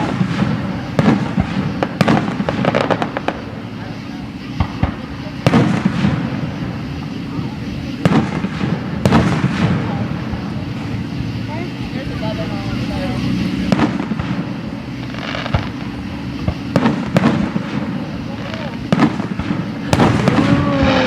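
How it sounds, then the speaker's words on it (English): A run of fireworks bursts goes off at irregular intervals, some sharp and loud, others softer and farther away, while people talk and react throughout. "Are they pretty fireworks?"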